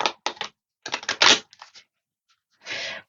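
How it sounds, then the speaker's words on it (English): A grippy tarot deck, The Wild Occult, being shuffled close up: several quick papery riffling bursts separated by short silences, ending with a longer smoother rustle of cards. "I want to give it a shuffle now and see"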